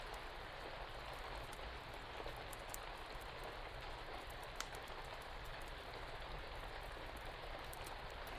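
Steady nighttime rain falls in a continuous soft hiss with scattered crackling drops and occasional sharper ticks on a surface, faint and even throughout, with no voices.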